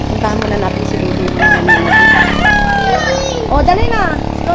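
A rooster crows close by at a farmyard near a marsh, its long rising call standing out over steady background noise, with other fowl clucking and people talking nearby.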